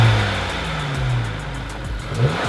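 A Volkswagen car engine with a newly refitted intake air straightener revs up and settles in repeated mid-pitched swells, loud and close, with no voices present.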